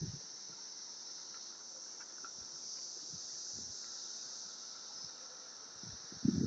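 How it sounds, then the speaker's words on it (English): A steady high insect drone of cicadas fills an outdoor setting in early June, faint and continuous, with a few soft rustles and a louder close handling bump near the end. "I have a cicada."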